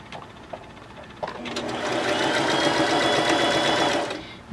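A sewing machine stitches quilting fabric for a nine patch block, a steady close mechanical whir that starts after a few faint handling clicks and runs continuously for about three seconds before stopping.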